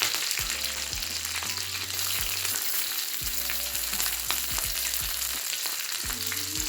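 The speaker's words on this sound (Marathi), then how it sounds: "तव्यावर तेल टाकणार आहोत आणि यामध्ये मिरच्या कापून घ्यायच्या आहेत लसूण" Green chillies and garlic frying in oil on a griddle, a steady dense sizzle running throughout with occasional soft clinks and scrapes of a utensil, close and continuous.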